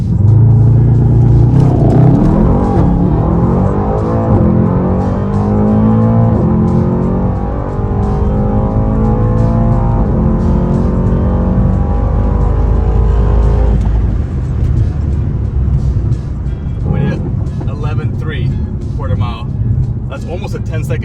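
Mercedes E63 AMG accelerating hard on a quarter-mile run, a loud, close engine roar climbing through the gears with shifts, then dropping to a lower rumble while voices talk over it.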